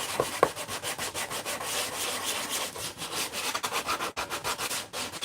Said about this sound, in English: use a sanding block here, some sanding paper, 220 grit that was applied. Start smoothing this out.